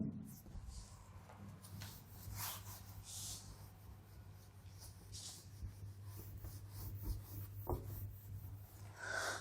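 Chalk or marker scratches and taps on a board as physics equations for an LCR circuit are written out, making faint intermittent strokes over a steady low room hum.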